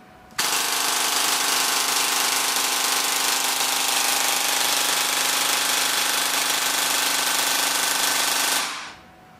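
A T238 brushless motor spins at high RPM, a loud, harsh, continuous roar that starts abruptly, holds steady for about eight seconds and then winds down quickly at the end, with no speech.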